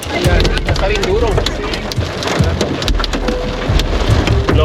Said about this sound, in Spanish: El granizo.